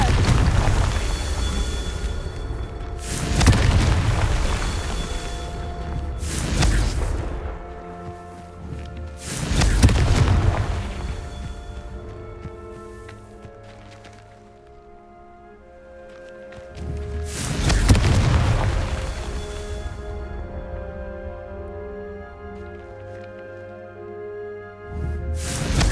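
Explosions from the Confringo fire spell in the video game Hogwarts Legacy, several loud booming blasts spaced a few seconds apart over game music and ambience.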